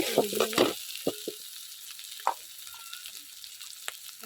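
Small shrimp hit hot oil in a pan, giving a few bursts of close crackle and sizzle at first. The frying then fades to a quiet, sparse hiss with faint pops, and there is no talk.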